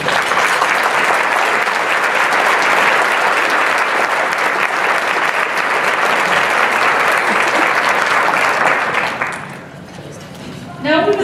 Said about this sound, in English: Please join me in giving all of these businesses a huge round of applause.